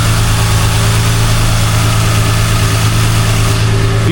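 A car engine idling inside a garage, a steady, loud, close hum with strong low drone and no variation or speech.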